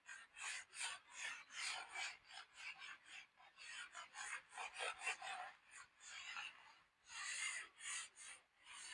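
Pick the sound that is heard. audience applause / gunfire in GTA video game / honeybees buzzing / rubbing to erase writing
rubbing to erase writing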